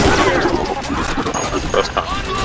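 Rapid gunfire from the video game Battle: Los Angeles, dense bursts and crackling shots filling the whole stretch with explosions mixed in, while players talk excitedly over it.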